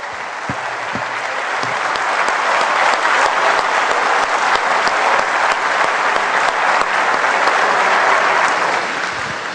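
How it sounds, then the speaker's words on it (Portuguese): A church congregation claps loudly and continuously together, a dense steady wash of many hands that swells slightly and holds for nearly ten seconds without talk. "Se você concorda, bate palmas ao Senhor por esta unidade."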